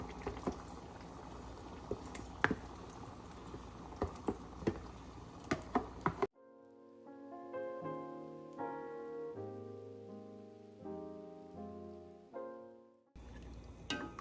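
Yakhni stock is poured and stirred into simmering beef korma gravy, giving a bubbling, sputtering liquid sound with small pops for several seconds before music takes over.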